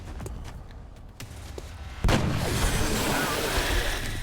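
Weapon fire erupts in the XCOM turn-based strategy game: scattered sharp shots give way to a sustained loud barrage of booming gunfire and explosions that fills the second half.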